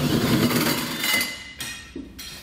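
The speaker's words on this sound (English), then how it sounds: "We're going to start with the larger 4-inch hole and drill it out." Harsh, grinding metal-cutting noise of a 4-inch hole saw biting through a truck bed's sheet metal, fairly close, with brief pauses and clanks between bursts.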